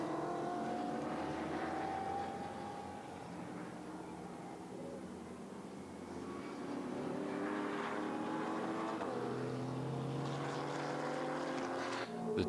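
Mercedes GT4 race car engine at the Nürburgring during a GT4 Central European Cup race, a continuous roar with rising and falling pitch as the car accelerates and shifts, fairly distant.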